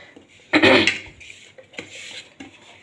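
Fish is mixed by hand with chilli powder, turmeric, a pinch of flour and salt in a metal bowl, making one loud scraping clatter and then softer, intermittent rubbing and clinking close by.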